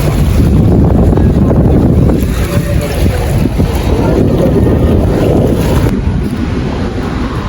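Strong wind roars steadily outdoors on a lake shore, buffeting the microphone with a constant low rumble, water lapping faintly underneath.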